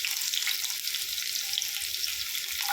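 Mustard seeds hit hot oil in a home kitchen and splutter, making a steady, bright hiss and crackle that continues without a break.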